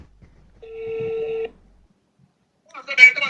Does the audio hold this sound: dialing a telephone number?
yes